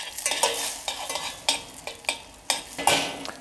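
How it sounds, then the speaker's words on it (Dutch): Shallot frying in a pan on a barbecue sizzles steadily, with repeated scraping and clinking strokes as it is stirred, close by and without talk. "Gewoon eventjes een minuutje laten bruisen."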